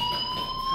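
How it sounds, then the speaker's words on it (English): A fire alarm rings steadily in the video game Life Is Strange, a continuous electronic tone with sharp pitched overtones that holds unbroken and loud throughout. "do you hear that fire alarm?"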